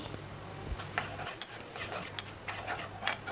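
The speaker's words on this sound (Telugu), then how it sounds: "ఉప్పు కూడా వేసుకుని ఇలా కలుపుకుంటూ ఫ్రైలా చేసుకోవాలి" Onion pieces fry with salt in a pan for an egg curry, a steady soft sizzle under occasional light stirring scrapes and taps, close and moderately quiet.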